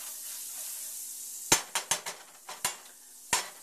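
A plastic spatula scrapes and stirs beaten egg in a hot pan for an omelette, a low steady sizzle broken by a cluster of sharp scraping clicks, then one last click after a pause.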